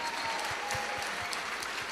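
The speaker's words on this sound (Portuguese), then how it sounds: "pode aplaudir o Senhor" A church congregation claps together at a large gathering, giving a soft, continuous wash of applause that sounds fairly distant and stays steady throughout.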